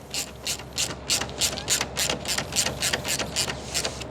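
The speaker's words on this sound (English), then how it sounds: "So let's tighten down the screws." A ratchet tightening screws on an aftermarket frunk in a Hyundai Ioniq Electric, about a dozen rapid, evenly spaced metallic clicking bursts, close and clear, with no talking.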